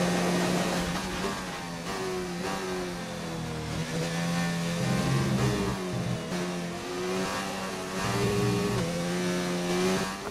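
Ferrari Formula 1 car engine in F1 2019, screaming at full throttle, loud and close. It revs rise and fall through quick upshifts and downshifts over about ten seconds without pause, with no talk.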